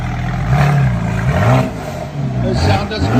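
A Mercedes GLE 43 AMG 3.0L bi-turbo with a straight-pipe exhaust, muffler removed and chip tuned, revs in several rising bursts, loud and close, with people talking over it.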